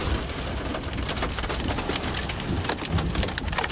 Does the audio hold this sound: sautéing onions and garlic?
no